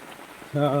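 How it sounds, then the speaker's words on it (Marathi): Rain patters on surfaces in a soft, steady wash, then a voice-like harmonic tone rises over it during the last part. "सकाळ रात्रीपासून पाऊस पडतात"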